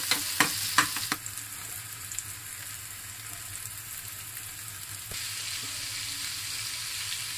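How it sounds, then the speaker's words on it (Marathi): Fresh cashews fry in oil with onion and tomato for a Konkan-style wet cashew bhaji. A few sharp utensil clacks open the steady, even sizzle that continues throughout. "काजूचे गोळे टाकलेले आहे, तेही तेलावर चांगले फ्राय करायचे आहेत आपल्याला"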